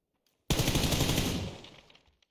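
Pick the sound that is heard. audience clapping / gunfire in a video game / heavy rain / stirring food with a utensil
gunfire in a video game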